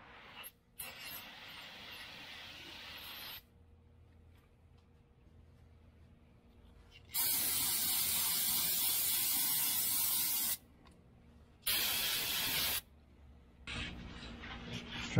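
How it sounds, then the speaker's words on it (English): Loud brake cleaner aerosol spray blasts in several bursts of a few seconds each onto brake pads of a 1965 Chevy El Camino, separated by quieter mechanical clicks and handling noises nearby. "I'm going to spray this down with brake clean"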